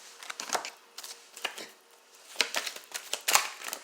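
Quiet riffling bursts of cards being shuffled, several short rustling flurries with brief pauses between, close by.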